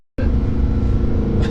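Lamborghini Huracan Performante engine pulling hard in first gear, a loud, close, steady roar that bursts in after a brief silence and holds strong throughout.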